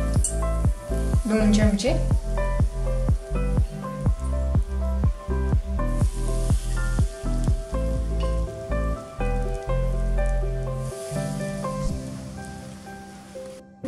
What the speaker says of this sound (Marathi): आता ह्याच्यामध्ये आपण गरम तेल घालून घ्यायचे